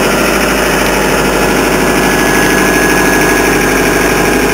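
Steady, loud idle of the engine on a Vermeer SC60 TX stump grinder, a constant droning rumble with a faint high whine that holds unchanged throughout, close up with no pauses.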